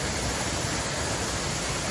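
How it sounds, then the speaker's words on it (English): Wolf Creek Falls on a forest trail gives a steady, dense roar of falling water, close and unbroken, with no voices. "Wolf Creek Falls."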